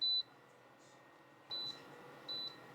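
An 1800W single-burner electric hot plate's timer button gives three short, clean electronic beeps, the first at once and two more spaced about a second apart, over a quiet room hum.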